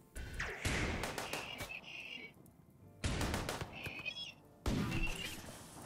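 Gunfire in the video game RimWorld sounds as repeated bursts of rapid shots in three clustered volleys, mixed with thuds and high squawking game effects.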